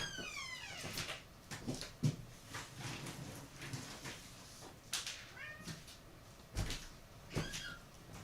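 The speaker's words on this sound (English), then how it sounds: "I have to feed this cat who's meowing at me" A cat meows repeatedly, several rising and falling cries spread out over a few seconds, with soft thumps and rustling between them.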